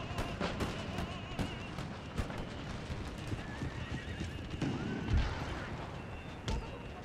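Cavalry in an Empire: Total War battle, with horses whinnying and hooves clattering at a gallop amid a dense, steady battlefield din, fairly faint overall.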